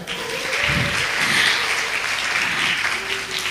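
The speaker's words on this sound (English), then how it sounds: "we will be give a warm round applause for all speakers" Conference audience at an international herbs and toxicants conference in Malang applauds the session's speakers, a steady, moderately loud round of clapping lasting a few seconds with no talk over it.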